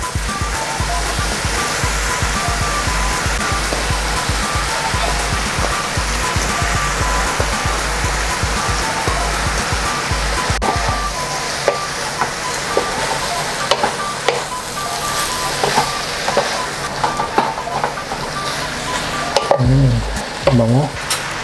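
Meat and coconut shoot sizzle loudly in a hot pan while being stirred and scraped, a steady frying hiss with repeated clatter of the utensil, continuing throughout.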